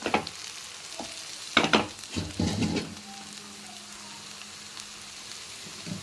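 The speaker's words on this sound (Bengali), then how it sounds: "এবার এটা এগুলোর সাথে মিক্সড করে আমি একটুখানি গ্যাস কমিয়ে বসিয়ে দেবো।" A spatula stirring a potato, eggplant and prawn fry with chopped tomato in a pan over gas, a few distinct scraping strokes and gentle sizzling around the middle, then a quiet low simmer.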